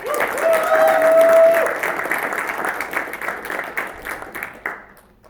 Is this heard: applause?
yes